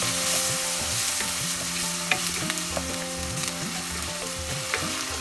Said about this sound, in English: Fry the onion till it turns slightly golden.